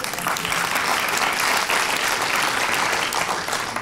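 Audience applause fills a discussion event, dense and steady from start to finish at close range, with no voices over it.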